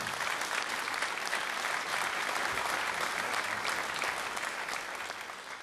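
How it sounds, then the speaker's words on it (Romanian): Sustained applause from a crowd at an opera ball gala, a thick, even roar of many clapping hands held throughout and easing slightly at the close. "puteți să aplaudați"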